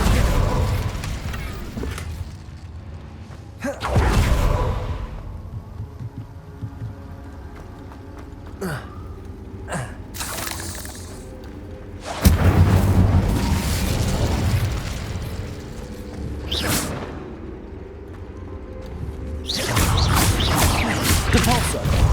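Incendio fire spells cast during Hogwarts Legacy gameplay on PC burst out as repeated whooshing, crackling blasts with several sharp pops and booming hits spread among rumbling game ambience, with no talking.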